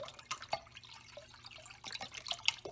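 Chicken broth poured into a cooking pot, heard as quiet, close dripping and splashing in an uneven trickle, with no talking.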